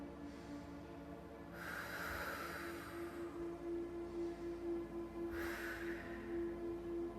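Slow, deep belly breaths during a yoga flow, two long airy inhale-exhale swells close to the microphone over a low steady hum, with no talking.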